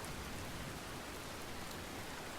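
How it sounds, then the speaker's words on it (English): Steady rain falls in the Men of War: Assault Squad WWII Guadalcanal battle, a dense, even hiss of raindrops on surfaces with no speech, constant and moderately loud throughout. "Now it's raining."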